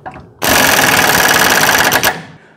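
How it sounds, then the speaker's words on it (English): An impact wrench removes suspension bolts on a 1964–1972 GM A-body car, firing one loud, continuous rattling burst of close hammering for almost two seconds before it cuts off. "But now you can use an impact wrench."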